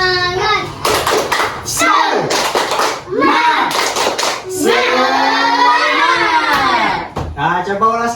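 A class of children in a classroom performs a rhythmic clapping chant, bursts of clapping from many hands alternating with loud group chanting and shouting voices, close and lively.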